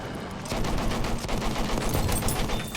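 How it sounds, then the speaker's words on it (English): Heavy gunfire from a tank's rear gun in the World War I shooter Battlefield 1, a dense run of loud overlapping shots and blasts continuing almost without pause. "This back gun on a tank is stronger than the first two guns."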